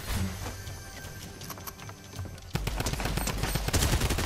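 Rapid automatic gunfire from a weapon in the video game Fortnite, a dense crackling burst that starts abruptly partway through and keeps rattling loudly to the end after softer scattered shots.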